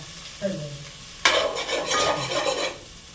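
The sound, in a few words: frying ginger garlic paste in a pan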